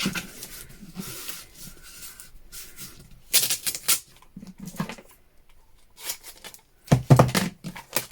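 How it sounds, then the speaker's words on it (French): Adhesive tape pulled and pressed on in several short, crackling bursts with pauses between, close up, with light handling noises. "Je vais consolider du coup la structure avec le scotch."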